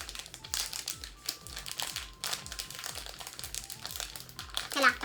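Crinkling and crackling of plastic packaging as bendy hair rollers are opened, close and continuous, with scattered crunches that grow louder near the end.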